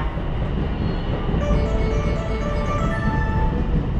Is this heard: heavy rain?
no